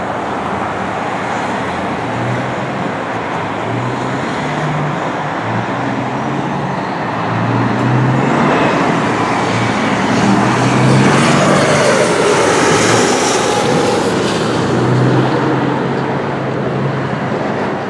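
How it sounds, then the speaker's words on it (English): A Southwest Airlines jet arriving from Denver on approach to land at Chicago Midway Airport, a broad roar that swells in the middle and then eases, heard from outside over steady nearby traffic. "immediately behind him is Southwest Airlines 1332 coming in from Denver"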